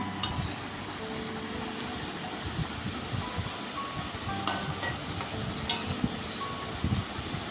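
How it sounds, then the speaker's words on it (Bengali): A spatula scrapes and clinks in a pan several times while haicha greens fry with a quiet sizzle underneath. "ঢাকনাটা উঠিয়ে এখন আবার একটু নেড়ে চেড়ে নিলাম"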